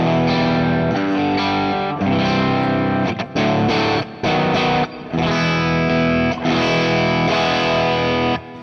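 Electric guitar through a JHS OverDrive Preamp pedal into an 18-watt Marshall-style amp, played as loud, sustained, lightly driven chords with a few brief pauses, close and alone.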